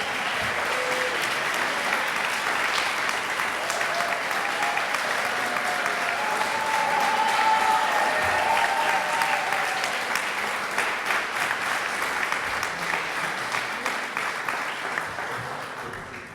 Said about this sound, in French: bonne main d'applaudissements pour ces deux-là